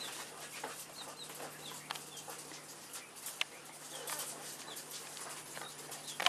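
Young pheasant chicks give faint, scattered high chirps and peeps against a quiet background, with no talk.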